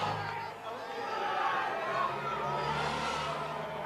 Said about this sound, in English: the crowd here tonight, another great crowd, are willing Anderson on round that bend